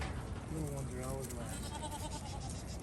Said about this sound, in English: New load of goats going in.